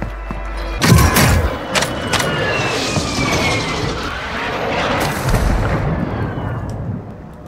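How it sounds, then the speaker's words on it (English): Precision airstrike explosions in a first-person shooter video game, a loud close blast followed by sustained rumbling and crackling debris that slowly fades. "Friendly precision airstrike inbound."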